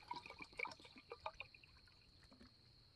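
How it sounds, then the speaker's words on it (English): Water trickles and splashes into a metal pot for boiling on a camp stove, with faint metallic ringing, fairly quiet and close, tapering off toward the end. "Water going in"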